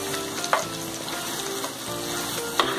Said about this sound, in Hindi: अब हम इसमें डालेंगे कोथमीर, और कोथमीर डालकर भी हमें इसे मिक्स करना है।